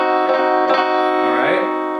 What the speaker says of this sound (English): This is the sound of diminished.